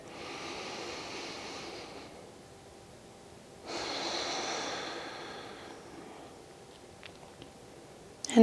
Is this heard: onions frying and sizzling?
no